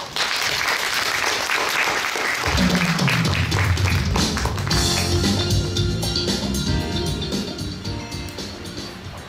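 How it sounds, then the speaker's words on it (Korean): An audience at a story-contest final pitching round bursts into loud applause for a presenting team, and music swells in underneath after a couple of seconds while the clapping carries on. "큰 박수 보내주세요"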